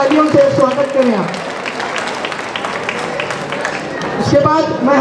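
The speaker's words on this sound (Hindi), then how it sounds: "जोरदार तालियों से स्वागत करें आप" An audience applauds a police inspector at a felicitation ceremony at a social college in Solapur. Loud, crowded clapping runs throughout, with a voice speaking over it.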